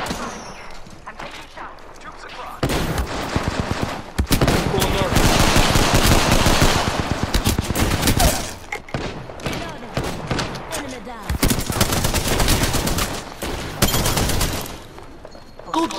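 Gunfire in the video game Apex Legends comes in loud bursts of rapid automatic shots, dense and overlapping, with quieter gaps between the volleys.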